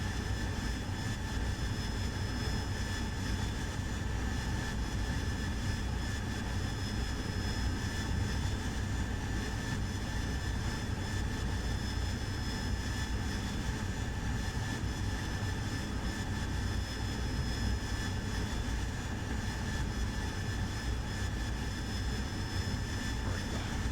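AV-8B Harrier jet engine in the DCS World flight simulator, a constant loud turbine roar with a steady high whine layered on top, unchanging for the full length.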